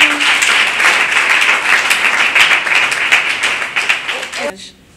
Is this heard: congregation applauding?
yes